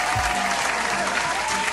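Applause on a morning talk show, a continuous, even wash of clapping at moderate level, with a faint steady tone running underneath and no speech on top.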